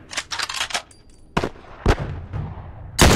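Gunfire in The Last of Us: a burst of four rapid shots, then single sharp shots spaced apart and a final loud blast, all close and with no talk over them.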